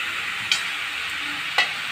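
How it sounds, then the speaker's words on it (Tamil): Chopped bottle gourd and tomato get stirred in a frying pan over a soft, steady sizzle, with two sharp scrapes of the spoon against the pan. "சுரக்காய் போட்டு நல்லா இந்த தக்காளியோட போட்டு நல்லா கிளறிக்கோங்க"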